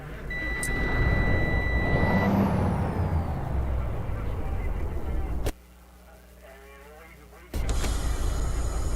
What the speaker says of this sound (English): So I'm going to release my parking brake.